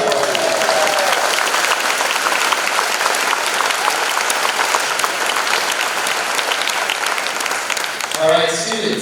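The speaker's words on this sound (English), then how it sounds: "Round of applause." A crowd at a school grade six promotion ceremony applauds the staff, dense sustained clapping filling the room for several seconds before a speaker's voice returns at the end.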